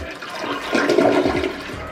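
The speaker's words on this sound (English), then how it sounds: "Look, it's still trying to flush itself." A Glacier Bay toilet with a weak, sluggish flush rushes and gurgles, the water swelling louder midway and then trailing off, close by and with no talk.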